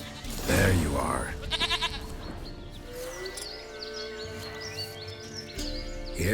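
Goat bleats in The Witcher 3, heard in a short burst near the start among faint chirps and game ambience, with a voice speaking over the scene.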